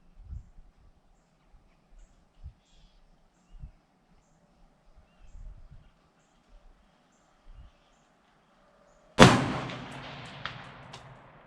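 A single loud, sharp gunshot at an outdoor shooting range cracks out after quiet handling clicks and thuds, its echo trailing off for a couple of seconds.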